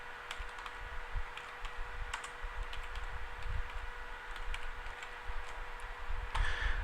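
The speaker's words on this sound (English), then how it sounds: "go to cell A1 and type the title for our application" Keys clatter on a computer keyboard while a title is typed into a spreadsheet cell, sparse irregular clicks over a steady electrical hum, close and fairly quiet.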